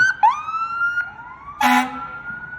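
A parade siren wails with a rising and falling tone, cut by a short loud horn blast, all fairly close and without speech.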